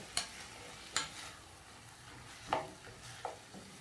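Beef stew ingredients stirred in a cooking pot for a brown beef stew, with a few sharp scraping knocks of a spoon against the pot at irregular intervals over faint background hiss.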